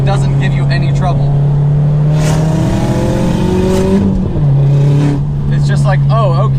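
A Subaru STI with an external wastegate pulls hard through a canyon corner, its engine rising and falling in pitch with turbo whooshes, loud from inside the car while someone talks over it.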